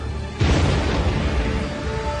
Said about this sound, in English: An explosion rocked the building.